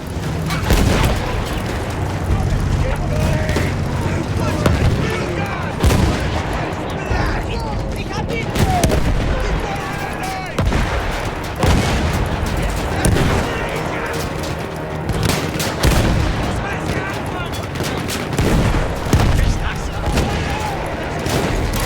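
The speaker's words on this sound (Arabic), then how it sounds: "مدفع" Battlefield 1 battle at Ribécourt with a Mark V tank in action: repeated heavy cannon and artillery booms and dense gunfire crackle throughout, close and loud, with shouted voices in the mix.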